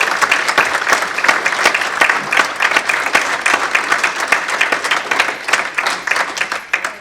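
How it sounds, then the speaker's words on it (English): An audience at a service of hope and gratitude applauds Father Hogan, steady dense clapping from a crowd filling the room, loud and continuous before tapering slightly at the end. "we should give him a big round of applause"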